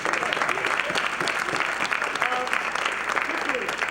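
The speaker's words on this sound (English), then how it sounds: "a strong round of applause" A live audience gives sustained applause, a dense and continuous wash of clapping with crowd noise and voices mixed underneath.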